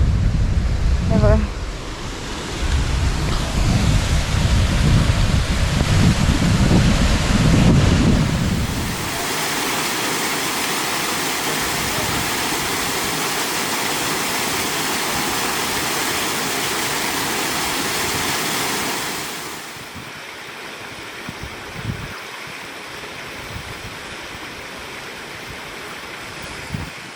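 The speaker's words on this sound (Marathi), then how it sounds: "पाण्याचा आवाज येतो आहे" River water flows near a temple on the Khapar Ganga as a steady rushing wash, louder at first with low rumbling wind buffets, then a softer even flow that fades to quieter ambience with a few knocks.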